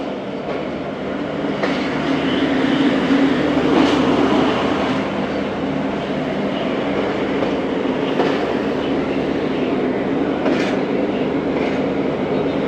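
Tezgam passenger train rolling steadily along rails with a continuous rumble and faint wheel clatter, sustained and fairly close throughout with no voices.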